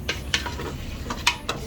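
Beef stew stirred in a pot after pressure cooking, a Kenyan home meal: a few sharp scraping clinks of a spoon against the pot at an uneven pace, over a low steady simmer.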